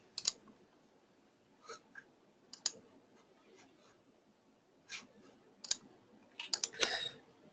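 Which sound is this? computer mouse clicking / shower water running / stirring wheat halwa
computer mouse clicking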